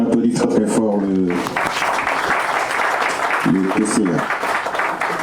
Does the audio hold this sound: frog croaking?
no